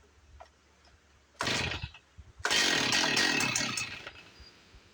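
A Husqvarna 450 Rancher chainsaw with a defective recoil starter, set on full choke, catches with a short sharp burst, then fires again and runs for a couple of seconds before dying away, close and loud against near silence.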